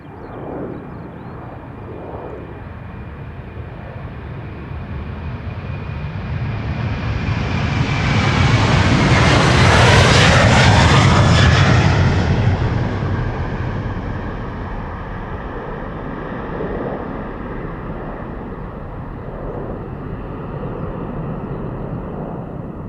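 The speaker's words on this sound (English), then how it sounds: "This is KLM flight 787 to Sint Maarten. That's an A330, no 200." A 19-year-old KLM Airbus A330-200 passes at Amsterdam Schiphol, its heavy jet roar building from a distance to a loud peak and then fading as it moves away.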